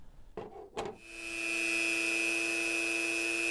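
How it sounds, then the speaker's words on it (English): A Dremel tool set up as a router mills a faceplate recess in a throttle panel, opening with two brief bursts and then settling into a loud, steady high-pitched whine close by. "we're going to mill this out just simply by using our router that's set up. It's a Dremel tool that's set up just to be able to cut"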